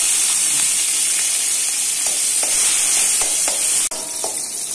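Whole mustard seeds, garlic and chili sizzle in hot oil, a loud, close, continuous frying hiss dotted with small pops and crackles, briefly dipping near the end.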